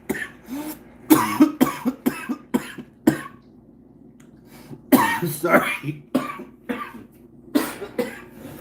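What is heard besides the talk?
person coughing from vaping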